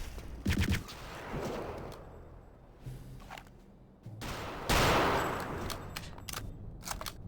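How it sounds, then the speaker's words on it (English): Gunfire in Return to Castle Wolfenstein, with sharp shots and short bursts scattered across the scene and a loud, sustained volley near the middle, fading into a few trailing cracks. "Who's shooting at me?"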